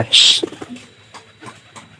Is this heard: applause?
no